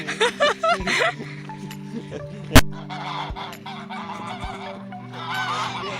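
Loud, repeated honking from several geese nearby, overlapping in bursts, with a sharp knock midway and some voices in the background.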